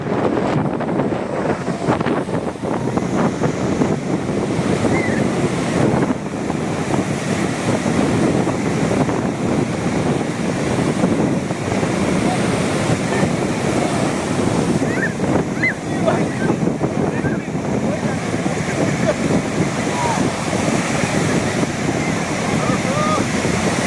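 Sea waves washing against rocks on the shore at Visakhapatnam, a steady, loud roar of surf churning throughout, with heavy wind buffeting the microphone.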